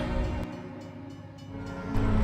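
A train rumbles past with a steady low roar and clatter that swells slightly at the end, continuous and fairly close, with no voices.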